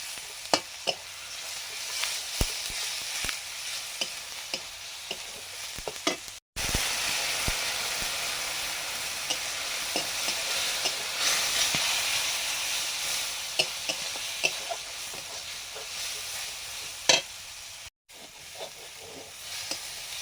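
Turmeric, chili, crushed ginger and garlic frying steadily in a pan, a continuous close sizzle broken by sharp clicks and scrapes of a stirring spoon, with no talking.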